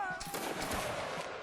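Musket volley fire in the Waterloo video game, British Army line infantry firing on command: several overlapping shots crack in quick succession and blend into a dense, loud rattle that fills the clip.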